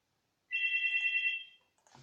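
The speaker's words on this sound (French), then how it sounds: "le téléphone a sonné" Phone ringtone sounding once as a steady electronic tone lasting about a second before fading, clear and close against silence, with a faint rustle afterward.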